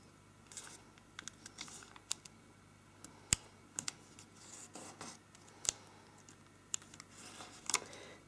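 Origami paper being flipped and folded while making a braided star, with scattered soft crinkles and crisp creasing taps at close range over a quiet background, no talking.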